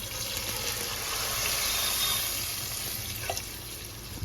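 Water pours steadily into a pot of fried onions, chillies and mandi masala for chicken mandi, a continuous rushing splash heard up close with no talk.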